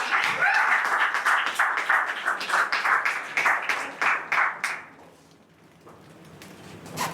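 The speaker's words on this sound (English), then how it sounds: "I request all the audience to clap for our next panelist" An audience at a professional-development panel discussion claps for a panelist, a dense burst of applause that thins into scattered claps and fades out, then silence.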